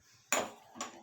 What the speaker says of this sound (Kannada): ಇವಾಗ ಸ್ಟವ್ ಮೇಲೆ ಪಾತ್ರೆ ಇಟ್ಕೊಂಡು